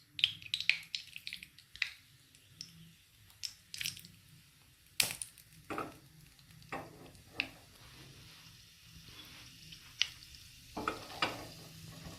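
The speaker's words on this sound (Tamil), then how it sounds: "நெய் கொஞ்சம் உருகினோடனே கொஞ்சம் முந்திரி பருப்பு போடணும்." Cashews fry in ghee with a quiet, crackly sizzle, broken by sharp scraping clicks of a spoon stirring the small pan.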